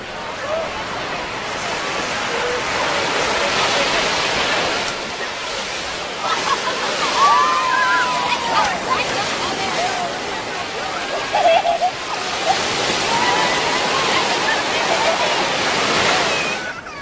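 Ocean water rushes and sloshes at the shore as seawater is collected for steaming lobsters, a loud continuous surf wash with a few brief splashes, no voices.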